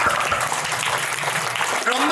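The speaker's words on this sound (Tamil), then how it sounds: "எல்லாருமே கைத்தட்டி அவங்கள கொஞ்சம் உற்சாகப்படுத்தலாம்." Crowd applause at a temple festival arts program, a steady dense wash of clapping filling the whole stretch, loud and close, with some voices mixed in.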